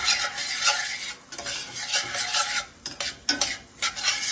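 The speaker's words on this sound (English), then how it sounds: "Stir them around." Stirring in a pan with honey reducing, a steady scraping swish with a few light clinks of a utensil against metal, close by, with no talking.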